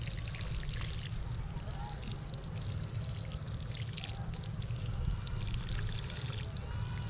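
A continuous, close stream of water splashes and trickles onto a garden bed of carrot seed plants, holding an even level throughout with a slight surge near the end.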